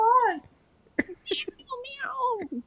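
A cat meows loudly in a few drawn-out calls indoors, close and clear, with a brief knock or thump between them.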